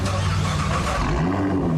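Nissan GT-R R35 engine turning over and revving, a steady loud mid-pitched engine roar with rising harmonic tones, close and continuous.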